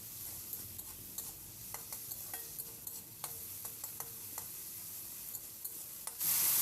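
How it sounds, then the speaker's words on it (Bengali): Flattened rice pulao stirred with salt in a pan, giving steady soft scraping and light sizzling with intermittent sharper utensil scrapes against the pan, close and moderately quiet, with no talk. "লবণটা দিয়েও ভালো করে কিন্তু আমি নেড়ে নিচ্ছি।"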